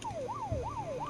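A vehicle siren in the video game Unturned wails in repeated rising and falling sweeps, loud and close, with a faint game background underneath.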